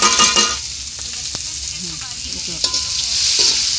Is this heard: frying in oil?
yes